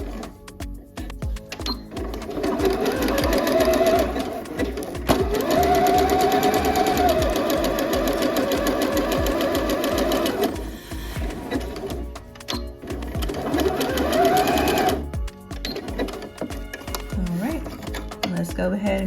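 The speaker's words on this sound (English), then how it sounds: "so let's go ahead and stitch the neckband 5/8 of an inch. I'm still using a zigzag." A sewing machine zigzag stitching a neckband on a top, running in long steady bursts of rapid needle clatter with short pauses between them, and a person talking over it.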